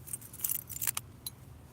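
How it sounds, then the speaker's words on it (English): A bunch of keys jingles close by outdoors at night during a search for them, with a few short, bright metallic rattles over a low background hum. "Oh, where did I put my keys?"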